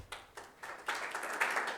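Scattered clapping from a conference audience at a video infrastructure summit, a few pairs of hands tapping in loose bursts that build slightly, fairly faint and alone without talk.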